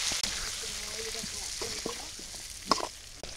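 Tomatoes hit leftover oil from frying fish in a village kitchen, giving a steady broadband sizzle that holds for the whole stretch, with a brief sharper crackle near the end. Talk is faint in the background.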